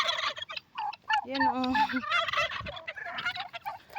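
Several turkeys gobble in loud, rapid warbling bursts, one close by and others answering, with a brief spoken word at the start.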